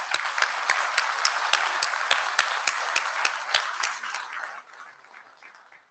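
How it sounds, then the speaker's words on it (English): Audience clapping at an internet standards meeting plenary, steady applause with a few distinct close claps that thins out and fades over the last couple of seconds. "We're going to do a lot of clapping"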